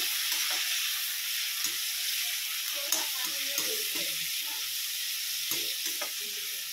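Ginger and a couple of cloves fry in hot oil, making a constant bright sizzle with occasional soft stirring taps and pops close by.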